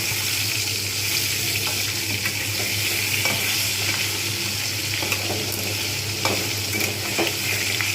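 Pieces of rohu fish fry in hot oil, giving a steady, loud crackling sizzle with occasional sharper pops that holds evenly throughout, with no talking.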